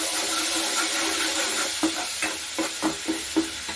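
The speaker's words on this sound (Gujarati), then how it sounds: "તો આ રીતે આપણે સારી રીતે મિક્સ કરી લઈશું।" Spice masala with half a spoon of water is stirred in a hot pan. A steady close sizzle is punctuated by a regular series of spoon scrapes against the pan.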